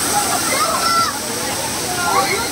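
Water pouring and splashing at the Atlantis waterpark in Dubai, a steady broadband rush of falling water that carries on loudly throughout, with some voices mixed in beneath the flow.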